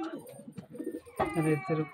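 Soft pigeon cooing in short bursts, close by, with a louder stretch of calls near the end.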